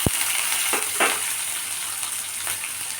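Chopped onion goes into hot oil with dried chilli, bay leaf and cumin, giving a steady, soft sizzle and a few faint clicks from stirring, close up with no talk.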